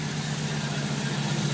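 A car engine idles after a timing adjustment: a loud, close, even low rumble that holds steady throughout, with no voices.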